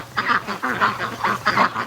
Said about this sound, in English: these are the only ducks that are left in the yard